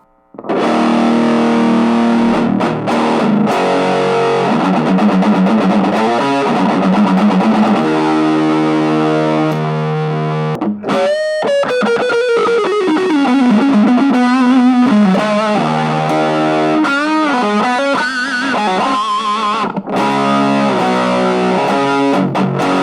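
Loud overdriven electric guitar through a Donner M-10 10W amplifier with drive at 12 o'clock, heavy distortion, sustained chords and bending lead notes played continuously for over twenty seconds, no talking.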